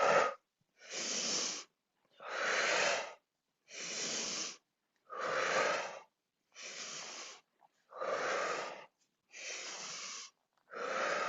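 Deep, forceful breaths during a slow movement exercise come in about nine close, loud, evenly spaced inhale and exhale cycles, each breath rushing for around a second and separated by clear silent gaps.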